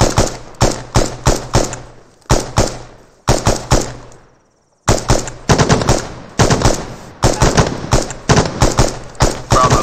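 Machine guns lay down suppressing fire in the Arma combat game, with loud, close bursts of rapid shots repeating in short groups and one brief gap before the firing resumes.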